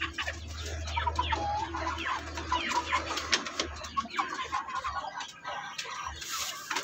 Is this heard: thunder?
no